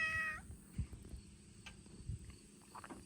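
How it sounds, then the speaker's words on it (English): A farm cat meowing, a single drawn-out meow at the start followed by quieter faint calls, with a low rumbling background noise throughout. "He just likes meowing all the time."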